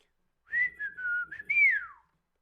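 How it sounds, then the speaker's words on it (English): A person whistles a short five-note code, clear and close, a quick melodic phrase of sliding tones that ends on a falling note, alone against silence. "I use that 5-note whistle code to taunt my friends"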